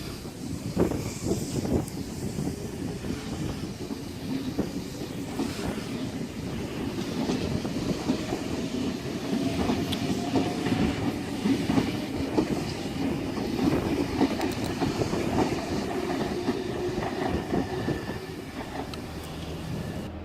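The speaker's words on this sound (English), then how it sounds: "We have S97 and S124 now departing platform number 1 for a City Circle service." Sydney suburban train pulling out of Petersham's platform 1 on a City Circle service, a steady close rumble with rhythmic wheel clatter that builds over about twenty seconds, no talking.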